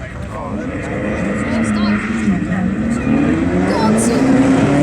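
Loud engine roar of drag racing cars, a mid-engine 3.8-litre McLaren and a 2.1-litre Subaru, revving and accelerating at an airfield, with a rising growl and a commentator talking over it.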